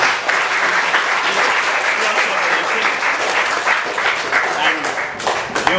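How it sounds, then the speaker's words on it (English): An audience at a community organizer awards event claps in a loud, sustained round of applause, with a few voices faintly heard beneath the steady clapping. "give applause for the exemplary service that he has rendered to our CDC"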